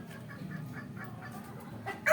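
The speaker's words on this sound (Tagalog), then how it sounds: "Ang daming mga manok dito" Chickens cluck softly and repeatedly close by. A rooster breaks into a loud crow right at the end of the short stretch.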